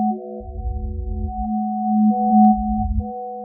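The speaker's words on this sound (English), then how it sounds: "You're hearing a low tone and a high tone." Audified James Webb Space Telescope MIRI spectrum data plays as two sustained electronic tones, one low and one high, steady and clean, with brief low rumbling pulses and a faint flicker of extra pitches between them.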